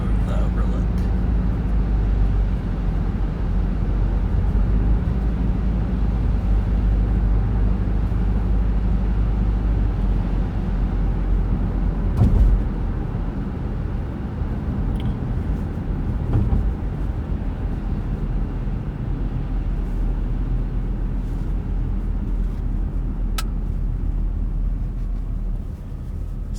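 A car driving along a snowy road, a steady close engine and road rumble that holds evenly throughout with a brief bump partway, and a person talking over it.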